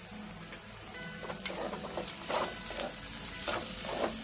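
Mixed vegetables fry in a pan with coriander-cumin powder, red chilli and Kashmiri chilli powder and homemade black masala, making a soft, continuous sizzle with a few gentle scrapes of stirring and no talking.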